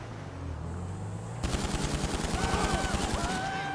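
Rapid automatic fire from an AP pistol in GTA 5 near a Pegassi Zentorno, a steady burst of close, loud shots repeating evenly for about two seconds after a brief lull of game ambience.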